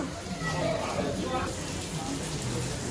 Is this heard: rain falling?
yes